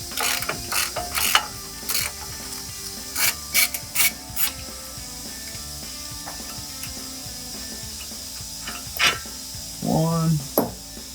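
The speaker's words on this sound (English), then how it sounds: "then use a ratchet to make it a little easier for yourself for the rest of the way." A ratchet loosening strut bolts on a RAM 1500 pickup during a front lift install: rapid clicking ratchet bursts in short repeated runs, close and loud, with a brief mechanical squeak near the end.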